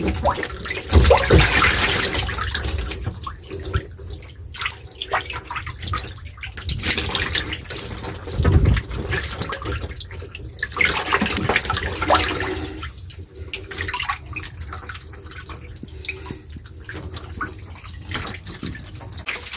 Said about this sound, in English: I changed their water I'm changing their water this morning